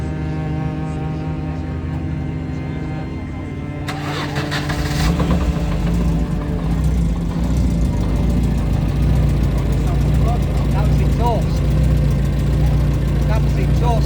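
Race car engine cranking over and catching, then settling into a loud, steady, rumbling idle close to the microphone, continuing for over ten seconds.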